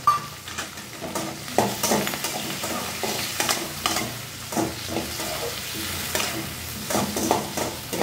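Tomato frying in a pan, stirred with steady scraping strokes over a continuous loud sizzle, close up and without voices.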